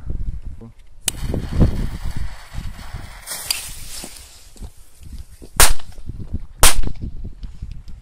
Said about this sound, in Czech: Tak a dále tady máme petardu Double Bang Pirát od firmy Pyromania